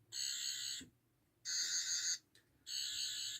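An 11th Doctor sonic screwdriver toy buzzer sounds in three bursts, a harsh bright warbling tone with short silent gaps and a brief blip between the second and third.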